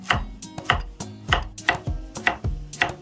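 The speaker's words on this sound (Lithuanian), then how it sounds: "Kol tirpsta šoninė, susipjaustykim morką." A carrot being chopped with a knife on a cutting board, crisp close knocks in a quick, even rhythm of about a dozen strokes, with no talk.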